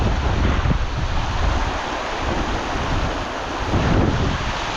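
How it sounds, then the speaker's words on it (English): Strong wind gusts roar and buffet the microphone while rain blows in near the Gayle waterfall, a dense, rushing, steady roar with no voices. "The wind's blowing the rain right in my face."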